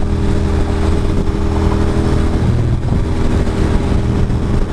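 Continuous loud engine drone of a Ducati motorcycle being ridden on a day ride in New Jersey, with steady rumble and wind noise throughout and no talking.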